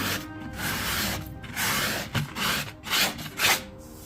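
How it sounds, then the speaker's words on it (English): A sanding pad rubs back and forth over painted furniture in rhythmic, raspy strokes, close and fairly loud, with brief pauses between passes. "I've just got a sanding pad and I'm just going to lightly rub over it"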